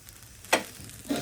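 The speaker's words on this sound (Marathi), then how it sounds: "पोहे टाकून परतून घेऊयात." Poha is tossed and stir-fried in a pan, with two brief, close scraping and sizzling bursts over a quiet background.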